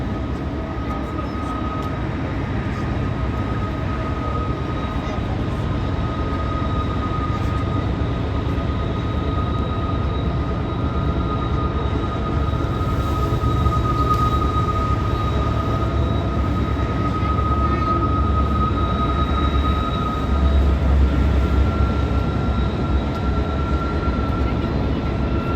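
A long freight train passing through a spiral railway tunnel near Emerald Lake in Yoho National Park, British Columbia, a steady loud rumble with a sustained tonal whine throughout, no voices.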